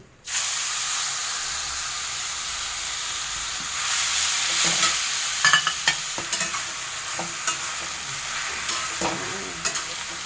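Grated raw mango sautéing in ghee for a sweet mango preserve, starting with a sudden hiss that settles into a constant sizzle, then joined by a run of repeated scraping stirs against the pan.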